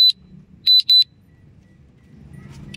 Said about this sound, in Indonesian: Aduh, suara apa itu? Alarm ya.